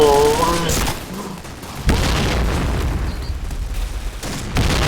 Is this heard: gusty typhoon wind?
no